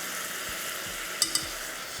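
Onions and beetroot fry in a pan with a steady, even sizzle, and two small clinks of a utensil cut in partway through.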